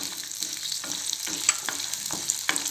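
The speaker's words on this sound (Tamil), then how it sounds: "இப்போது வெங்காயம் ஆட் பண்ணிக்கிறேன். இதுவும் நல்லா வதங்க விட்டுருவோம்." Onions sautéing in a pan for a manathakkali keerai chutney, with a steady sizzle and repeated soft scrapes of a spatula stirring at an even rhythm, close and clear with no talking.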